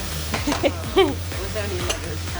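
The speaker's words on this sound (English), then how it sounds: "you should hear that sizzle straight away" Red wine hits a hot pan with a steady sizzle, joined by a few scraping stirs and light clinks of utensils.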